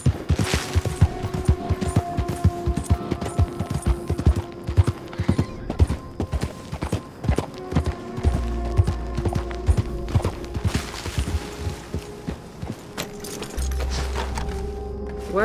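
Steady rhythmic clip-clop of galloping horse hooves in Red Dead Redemption 2, continuous and fairly loud, mixed with low rumbling game sounds and occasional thumps.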